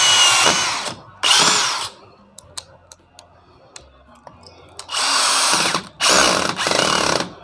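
A DeWalt DCD706 brushless cordless drill drives a screw into material in several short whirring bursts, separated by quiet gaps with small clicks and taps.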